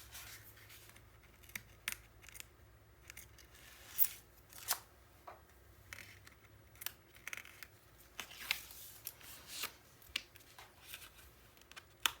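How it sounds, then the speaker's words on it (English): Scissors trim paper corners for an 8 x 8 mini scrapbook album, a series of sharp, quiet snips spaced irregularly over soft handling noise, close and alone. "Trim up those corners a little bit."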